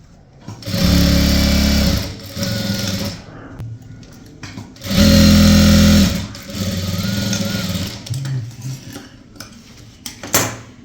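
A sewing machine stitches a border seam on a maxi dress in two loud, steady bursts of several seconds each, separated by quieter handling of the fabric and clinks of tools.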